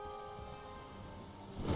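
Steady rain falls in the video game Dyscourse during a storm, a dense, even hiss with low rumbling beneath, brief and unbroken, with no voices.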